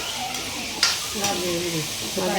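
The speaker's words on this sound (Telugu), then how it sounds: "టమాటా ముక్కలు కోసి పెట్టాము కదా, అవి వేసేసి మళ్ళీ కలిపి కొద్దిసేపు ఫ్రై కావాలి." Tomato pieces fry in a pan for a paneer and pea curry, giving a continuous moderate sizzle with a few brief clinks and scrapes over it.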